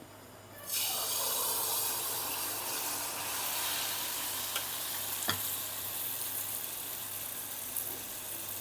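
Appam batter hits hot oil and breaks into a sudden loud sizzle, then settles into a steady frying hiss with a few faint pops and one sharp click partway through. No one speaks.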